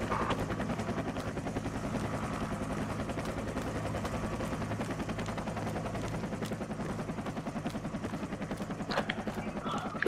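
Helicopter rotor chop from the Project Reality war game, a steady dense thumping that fills the whole clip, with scattered gunfire cracks mixed in and no talk.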